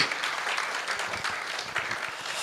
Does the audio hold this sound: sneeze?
no